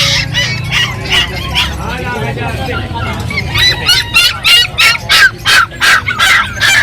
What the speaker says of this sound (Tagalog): meron dito mga sirama chicken